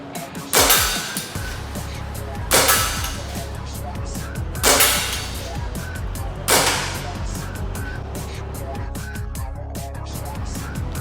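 A 3D-printed EC foam dart blaster is fired four times at roughly two-second intervals, each shot a sharp, loud snap over steady background music.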